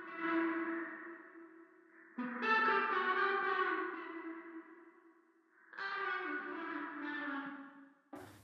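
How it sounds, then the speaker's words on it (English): A processed vocal line sings sustained, smooth notes with a distortion layer underneath and filtering and reverb applied, separated by short pauses and ending on a brief burst. "adds distortion to the effect underneath the main vocals. With filtering and reverb applied, it enhances the vocals with a beautiful texture without sounding harsh."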